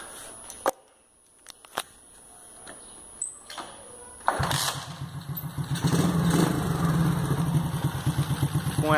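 Motorcycle engine with a carburetor being adjusted, heard after a few sharp clicks and clunks as it cranks, catches and settles into a close, steady idle that grows slightly louder and rougher.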